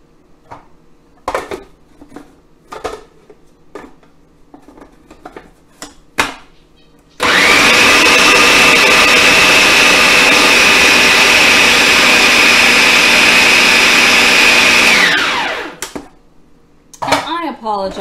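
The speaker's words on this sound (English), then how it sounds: "you wouldn't know how long to blitz them for in your food processor" A food processor blitzing falafel mixture gives a loud, steady electric roar for several seconds, cutting in abruptly and stopping just as suddenly, with brief talk and clatter around it.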